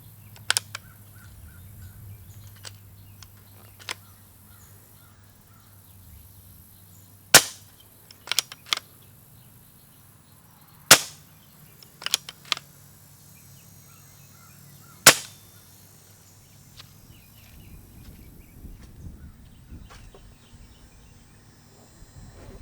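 Sharp, suppressed shots from a silenced BSA R10 SE .22 air rifle, 27 foot-pounds, fired outdoors. Several spaced cracks arrive over about twenty seconds, some followed by faint pellet impacts, with birds and insects faintly in the background.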